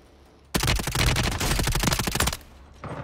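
Rapid automatic gunfire in a first-person shooter game, a loud sustained burst of shots lasting about two seconds, then a brief pause and a shorter volley.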